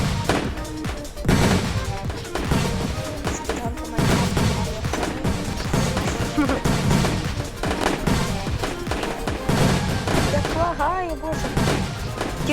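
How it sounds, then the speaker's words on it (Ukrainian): Loud fireworks in a video game, a continuous barrage of crackling bursts and booms with dense, overlapping explosions throughout, with players talking over them. "феєрверки дуже лагучі, скажи"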